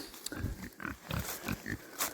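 Pigs rooting around in a pasture give a run of low, close grunts in an irregular rhythm, mixed with rustling and snuffling.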